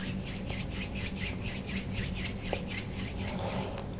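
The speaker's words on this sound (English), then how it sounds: "Bring your palms together, rubbing them together, generating that heat." Palms rub together briskly during a yoga practice, a steady rhythmic swishing of about four strokes per second, soft and close, with no talking.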